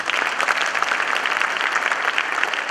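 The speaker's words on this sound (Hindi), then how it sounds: "अब ताली बजाओ" Steady, dense audience applause at a company third-anniversary event in India, a broad even wash of many hands clapping throughout with no talk over it.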